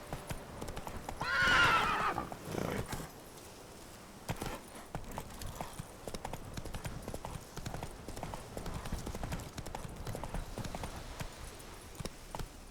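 A horse in The Legend of Zelda: Breath of the Wild gives a loud whinny, then its hooves clip-clop in a quick steady rhythm that carries on to the end, with a rider's brief call near the start.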